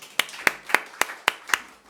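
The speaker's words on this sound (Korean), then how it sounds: "박수." A handful of members of a church congregation clap together, six distinct sharp claps spaced about a quarter second apart, close and fairly quiet, with no talking.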